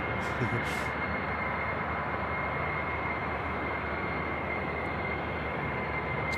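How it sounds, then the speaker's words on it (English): Aircraft engines warming up at Manchester Airport, a steady, continuous roar filling the whole clip at a constant level, with no break or change in intensity. "I love these long warm-ups the engines do."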